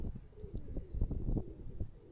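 Sialkoti pigeons on a rooftop loft giving soft, low, repeated cooing calls in a short burst, close and fairly quiet.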